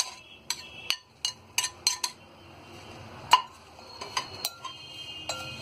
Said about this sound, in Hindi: तो मसाले में हम अच्छी तरह मिर्च को मिक्स कर देंगे